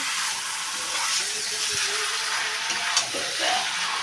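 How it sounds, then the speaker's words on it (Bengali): Curry sizzling as it is sautéed in a pan, a steady loud hiss of frying oil with faint stirring scrapes and a small clink, continuous throughout. "তো এখনো কষাচ্ছে, দেখো কতক্ষণ লাগে টাইম"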